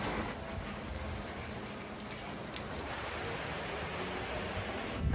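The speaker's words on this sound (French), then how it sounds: "il pleut beaucoup moins que tout à l'heure" Steady rain falling at night outside a restaurant, a dense continuous hiss of drops spread evenly for several seconds with no voices over it.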